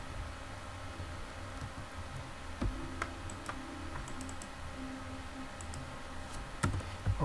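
Computer keyboard typing with mouse clicks while code is copied for an LCD display exercise. A steady, close patter of key presses with occasional sharper clicks over a faint background hiss.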